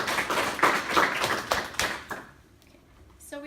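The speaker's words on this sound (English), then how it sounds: "Tracey a big round of applause." An audience gives Tracey Horan a round of applause before a persuasive speech: a brief burst of scattered clapping that fades after about two seconds into near quiet.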